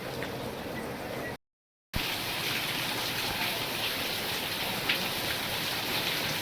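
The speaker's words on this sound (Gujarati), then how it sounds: "અત્યારે પણ એવો જો ધમાકેદાર વરસાદ પડી રહ્યો છે." Heavy rain pours down at night, a dense continuous hiss of drops on surfaces, close and steady, broken by a brief moment of silence.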